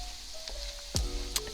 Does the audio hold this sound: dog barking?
no